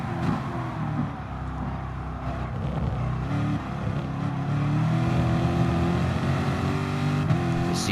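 A race car engine hums at Monza in Gran Turismo Sport, a steady, loud tone with brief throttle jabs that shift its pitch up and down, alone without talk.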